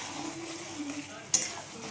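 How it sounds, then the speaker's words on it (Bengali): Fried potatoes go into a pan of thin mutton curry, giving a soft low sizzle with a single sharp metallic clink of utensil against pan partway through. "তো আমার ভেজে রাখা আলুটা আমি দিয়ে দিচ্ছি।"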